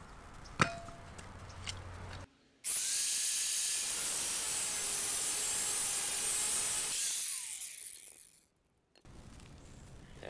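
A power cutting tool bites into a metal tab on a 5th gen Toyota 4Runner frame, a loud sustained high whine and grind for about six seconds, with smaller clanks before and after.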